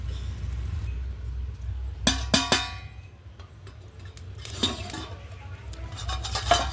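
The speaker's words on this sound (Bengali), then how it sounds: "এবার চাপা দিয়ে দেব, চাপা দিয়ে ভালো করে আলুগুলো সিদ্ধ করে নেব।" Lid placed on a cooking pot of potatoes with water, giving a few sharp metallic clanks and rattles close by over a low background hum.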